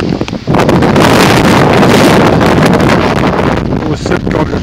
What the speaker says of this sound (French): Il y a pas mal de vent présentement